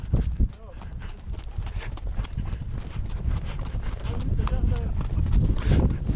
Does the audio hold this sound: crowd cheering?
no